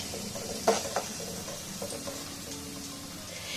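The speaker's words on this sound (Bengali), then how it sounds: "এগুলো ভাজা হয়ে যাচ্ছে।" Nimki snacks fry in oil with a soft, faint sizzle, and a few light clinks of a utensil come near the start.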